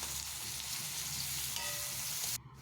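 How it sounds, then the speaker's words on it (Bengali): Chopped onion frying in oil with whole garam masala and cumin seeds gives a steady, close sizzle that runs evenly, then cuts off abruptly near the end. "গোটা গরম মশলা, জিরে ফোড়নে দিয়ে পেঁয়াজ কুচি দিলাম"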